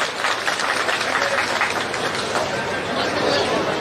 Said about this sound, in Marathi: अशा सर्व सैनिकांसाठी जोरदार टाळ्या